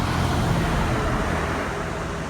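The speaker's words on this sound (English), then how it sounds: "Big trucks going by." Heavy trucks and cars roll past on a roadway in the Chicagoland area, a steady close broadband rumble of traffic that fades slightly toward the end, with no talking.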